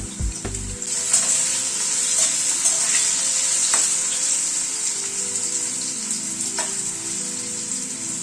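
Boiled potatoes fry in oil for a chicken dish, a continuous close hiss and sizzle with a few stirring knocks early on, steady without talk.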